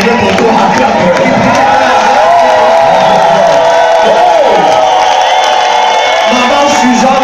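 A crowd cheers and acclaims loudly and continuously, with shouts, whoops and voices blending into a dense roar throughout.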